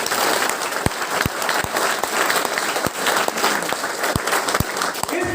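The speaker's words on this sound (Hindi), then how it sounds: "इसके लिए ताली बजाओ एक बार" A coaching-centre audience at a leadership training event breaks into applause, dense clapping from a crowd with a few sharp individual claps standing out, steady throughout.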